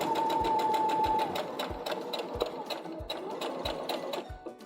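A sewing machine stitches quilt fabric, its needle thumping in a fast, even rhythm under a steady motor whir, with one brief high tone early on.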